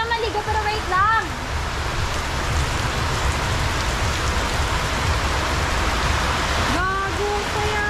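Steady rain pours down outdoors during a village merrymaking in Cabatuan, Iloilo, a dense continuous hiss that fills the scene, with excited voices calling out over it at the start and end.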